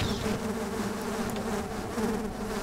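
Swarming bees buzz in the Half-Life Sven Co-op video game, a dense, continuous insect drone that stays loud and steady throughout without speech.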